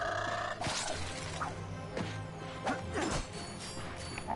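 Wooden crates smashed in Ratchet & Clank, a quick series of sharp breaking cracks and splintering crashes with whooshing swings between, set against a low game background hum.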